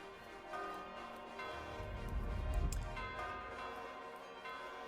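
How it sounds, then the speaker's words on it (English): A bell in an RWBY animated episode rings in a sustained, reverberant wash, swelling toward the middle and then fading, with no voices. "there's the bell thingy"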